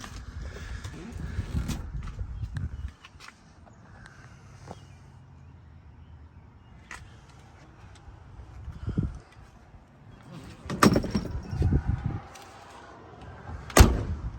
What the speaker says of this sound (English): Doors shut nice. Don't have to slam them.